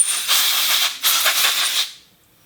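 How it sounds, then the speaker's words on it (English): Compressed air from a compressor and air hose blasts into a Kymco Xciting 500 scooter's throttle body in two close, loud hissing bursts, then cuts off to near silence. "I'm using a compressor and an air hose, and you can just kind of blow it on the inside"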